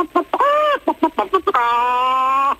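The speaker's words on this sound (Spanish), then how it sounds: "La gallina quedó culeca" A broody hen clucks close by: a run of short, choppy calls followed by one long, drawn-out cry, with no talk over it.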